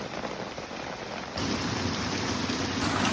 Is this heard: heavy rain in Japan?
yes